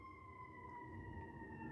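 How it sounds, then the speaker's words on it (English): Emergency vehicle sirens wail outdoors in a steady, sustained tone, heard at a moderate distance over a low rumble of background noise. "there are so many sirens right now. I know you guys can hear that."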